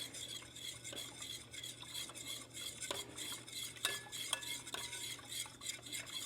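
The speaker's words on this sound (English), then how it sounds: "Now I'm going to take my Danish dough whisk. This is what I love to use for my sourdough. And I'm just going to mix this all up." A Danish dough whisk mixes water and sourdough starter in a bowl, producing continuous quiet sloshing and scraping with a few light clinks, close and soft with no voices.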